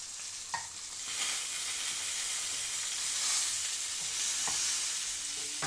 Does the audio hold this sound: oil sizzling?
yes